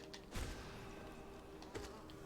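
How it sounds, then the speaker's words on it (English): Buzzing bug sounds from the video game Hollow Knight, a faint steady insect drone with two brief louder swells, with no talking. "so now we have bees"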